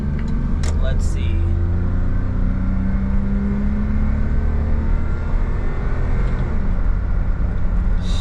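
A Daihatsu HiJet Deck Van kei van accelerates along a straightaway, its engine droning steadily from inside the cab with a rising pitch and constant road noise, loud throughout.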